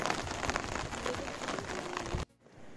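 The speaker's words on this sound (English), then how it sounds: "It's raining." Steady rain patters on a surface at night along the Appalachian Trail in Vermont, a dense, even hiss of drops that cuts off abruptly near the end.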